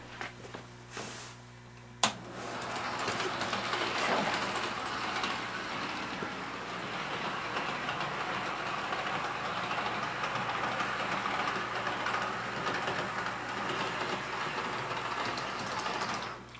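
A model train runs on an automatic DC reversing shuttle track, point-to-point on a single line, with a steady motor whir and rail rumble after a sharp click at the start, continuous and fairly close.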